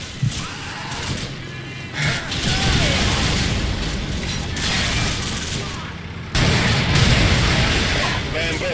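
A BMP armored vehicle destroyed in Call of Duty 4, with a loud rumbling blast, mechanical clatter and heavy battle noise layered under voices, swelling again near the end.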